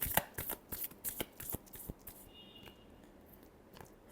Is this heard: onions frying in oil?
no